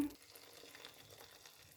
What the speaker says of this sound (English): Add tuna, cook it for 1 minute more.